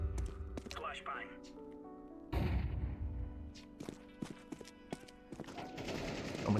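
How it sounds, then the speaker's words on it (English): A flashbang grenade goes off in a shooter video game with a sudden loud burst partway through, set among clattering game effects, sharp shots and players' voices. "Flashbang."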